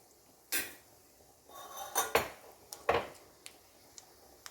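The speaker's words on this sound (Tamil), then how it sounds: "இப்போ நம்ம கடுகு தேவையான அளவு போட்டுக்கலாம்" Mustard seeds dropped into hot ghee in a pan while making sambar, giving a handful of sharp separate pops and crackles with metallic clinks between them, close up with no talking.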